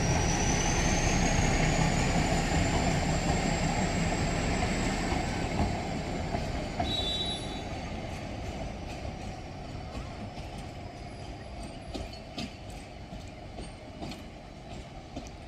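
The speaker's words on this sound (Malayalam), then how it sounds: "ഒരു ട്രെയിൻ അവിടെ നിന്ന് ഇങ്ങോട്ട് വന്ന് നിൽക്കുന്നുണ്ട് കേട്ടോ." A train pulling in at Lovedale railway station, a loud broad rumble with a long high squeal of wheels that slowly fades and settles, heard up close in the open.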